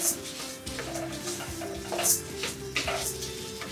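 Spices roasting in oil in a pan for sambar powder, a continuous soft sizzle and crackle with occasional scrapes and stirring clinks of a utensil against the pan, close and steady, with no talking.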